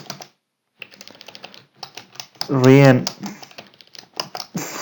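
Quick, crisp key clicks from a computer keyboard as text is entered into Primavera P6 project-scheduling software, in close bursts around a voice speaking.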